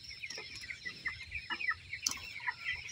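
Eighteen-day-old broiler chickens in a shed keep up a soft, continuous chorus of clucks and chirps, many birds calling at once at moderate distance with occasional sharper peeps.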